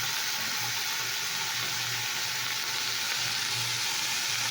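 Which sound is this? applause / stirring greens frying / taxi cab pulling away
stirring greens frying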